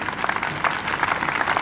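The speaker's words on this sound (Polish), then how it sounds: "Brawa dla pana dyrektora" Audience applauding the theatre director at an operetta premiere at the Malta Festival in Poznań, a steady wash of clapping from a crowd, moderately loud, with a faint voice mixed in.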